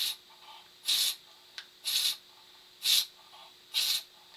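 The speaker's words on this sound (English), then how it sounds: "And then just pump away." A flavor injector piston pump, worked like a bicycle pump to suck air out of its chamber, is stroked four times in an even rhythm, each pull a short rasping hiss with quiet gaps between.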